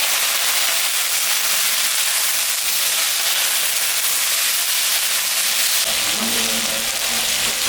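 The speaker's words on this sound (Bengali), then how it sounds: "পেঁয়াজটা ভাজা ভাজা হয়েছে হালকা, এখন আমি আলুটা দিয়ে দেব।" Potatoes tipped into a pan of lightly fried onions, producing a steady broadband sizzle and hiss that thickens near the end as the pieces hit the hot oil.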